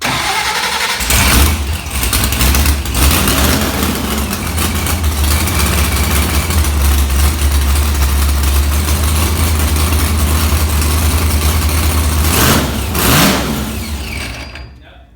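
A 1964 Comet race car engine fires up and runs at a loud, steady idle with a deep, rumbling exhaust, then cuts off near the end while people talk over it.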